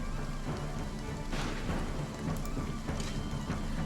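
Steady rainfall in the medieval strategy game Wartales, a continuous wash of falling rain with a few brief louder gusts or rumbles, filling the whole scene at an even level with no talk.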